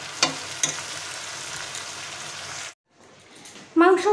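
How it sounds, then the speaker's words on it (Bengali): Meat sautés in a new wok, a steady close sizzle with a couple of sharp clinks from stirring; the frying cuts out abruptly near the end, followed by a brief quieter stretch and a sudden burst of voice. "মাংস এখন কষছে"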